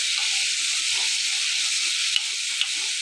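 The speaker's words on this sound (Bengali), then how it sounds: "আদা বাটা রসুন বাটা পেঁয়াজ বাটা তো ভালো করে মশলাটা আমি কষিয়ে নিচ্ছি" A paste of ground ginger, garlic and onion sizzles steadily in a hot pan, a loud continuous frying hiss with a couple of faint clicks near the end.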